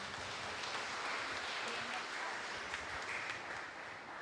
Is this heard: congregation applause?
yes